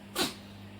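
A cat sneezes once, a short soft burst close by, over a steady low background hum, with no talking around it.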